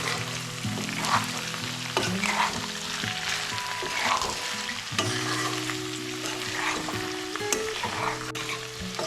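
Pepper chicken stirred and fried in a pan on a gas flame, with steady sizzling and repeated scraping strokes of a spoon against the pan, close and continuous with no talk.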